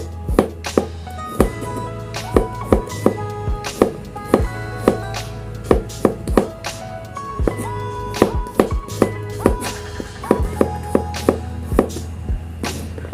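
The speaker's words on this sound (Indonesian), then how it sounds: "Lanjut kita iris bawang putih tipis-tipis" Garlic being thinly sliced with a knife on a cutting board, with a steady run of sharp, close taps from the blade striking the board, some in quick clusters, over a low background hum.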